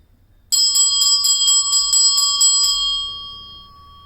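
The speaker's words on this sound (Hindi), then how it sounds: "आप उसके सामने ये बेल आप बजाइए।" A single bell used for sound healing is rung in a quick series of about ten bright, ringing strikes, then left to decay into a fading shimmer, heard clearly on its own.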